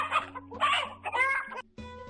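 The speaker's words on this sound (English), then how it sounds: "Hen, cluck." A hen clucks in a quick run of short choppy calls over about two seconds, close and clear, with no voices.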